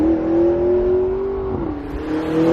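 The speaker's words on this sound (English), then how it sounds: "Another thing that impresses about the engine, though, is actually how it sounds." A turbocharged McLaren 650S Spider engine revs in a smooth, sustained tone that holds steady, dips briefly, then climbs again, heard clearly on its own.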